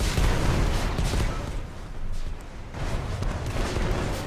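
Shotgun fire in the Destiny raid Vault of Glass comes as a heavy, continuous wash of booming blasts and explosive game noise, loud and close throughout.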